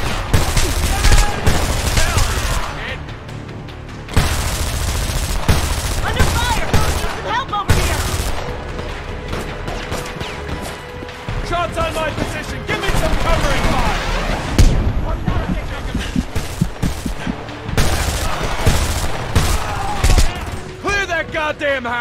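Heavy, sustained gunfire in the video game Homefront during a war-zone firefight, dense overlapping rifle and machine-gun bursts with booms, loud and continuous for the whole stretch, with shouted voices mixed in.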